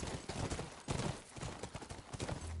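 Horse hooves galloping in The Last of Us video game, a fast, steady clip-clop rhythm close by under game ambience and occasional thuds.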